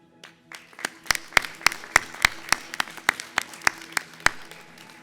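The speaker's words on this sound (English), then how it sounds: "let's give our master's students a wonderful round of applause for this achievement" Graduation ceremony audience, at a hotel management school summer event, clapping in a hall: sharp, evenly spaced claps rising into a rhythmic, moderately loud round of applause that builds from a few hands to a fuller crowd.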